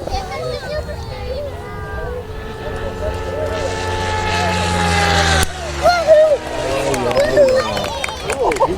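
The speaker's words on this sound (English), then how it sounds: "You just hear the air off the props, eh?" A very fast RC helicopter passes overhead. Its rotor and propeller noise builds into a rising whine, then cuts to a rougher rush partway through, with people talking over it.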